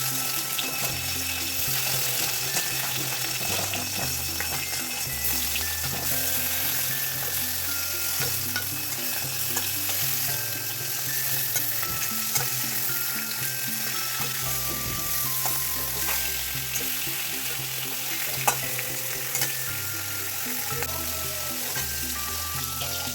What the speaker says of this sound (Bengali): ওই মাছটির ভাজা করুম আর কিছু করুম পেঁয়াজি